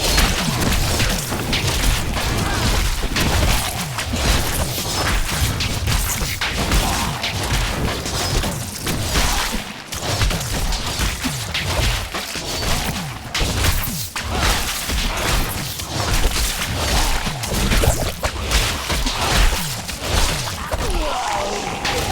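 Enemies assault the barricades in Diablo 3, a dense, continuous din of booming impacts, crashes, smashing and thuds from combat, loud and relentless throughout with no pauses.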